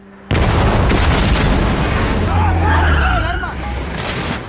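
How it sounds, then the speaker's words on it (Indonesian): A car blown up in an action film: a sudden loud boom erupts and a sustained roaring blast with rumble and debris carries through, with fainter squealing tones underneath, then settles into a lower steady roar. "dua rekan mereka sudah beraksi dengan meledakkan sebuah mobil"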